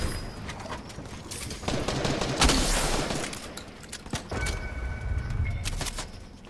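Rapid gunfire in Fortnite duos, close and loud, with bursts building into a heavy volley in the middle and scattered shots continuing after.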